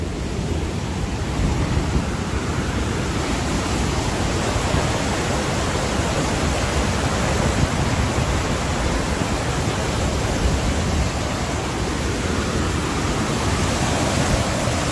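Montmorency Falls in Quebec, Canada, roars as a constant loud rush of falling water, heard from nearby on a suspension bridge, steady and unbroken with no voices.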